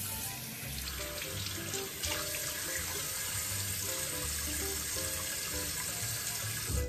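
Tap water runs steadily into a sink for face washing during a morning routine, a continuous broadband splashing rush that stays fairly loud and even throughout with no talking.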